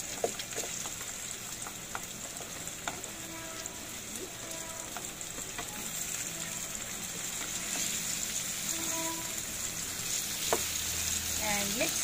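Squash (kalabasa) sizzles in a pan with garlic and potato, a steady close frying hiss broken by occasional stirring clinks and scrapes, with no talking.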